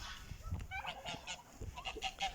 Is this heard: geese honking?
yes